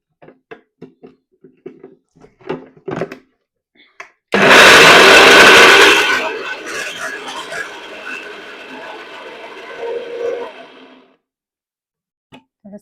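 A mixer grinder whirs loudly as it blends chutney, bursting in abruptly at full power, then settling into a steadier, quieter grind for several seconds before cutting off. A few soft clicks and brief handling noises come before and after it.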